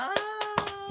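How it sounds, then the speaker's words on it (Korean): A small group of people claps in a few separated bursts, close and fairly loud, over a sustained tonal background. "박수."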